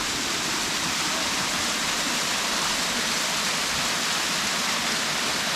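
A small waterfall in Phuket, Thailand pours continuously in a loud, close, even rush of falling water, with no one speaking.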